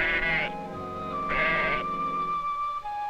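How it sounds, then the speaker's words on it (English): A live goat tethered as leopard bait in the wild bleats twice, each call loud and close, with a steady tonal hum continuing in the background between and after the cries. "The bleat of the goat will attract the leopard from a distance."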